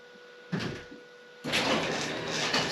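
A garage door opens in a home garage where a Honda Civic is being worked on. A brief rattling thud is followed by a loud, steady rolling rumble that continues to the end over a faint background hum.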